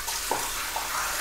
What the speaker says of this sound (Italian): andiamo ad aggiungere un goccino di acqua nella nostra tazza